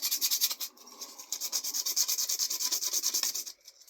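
A sanding machine with worn-out sandpaper works over a bus model, a close rapid rhythmic rasping scrub with brief pauses, no voices.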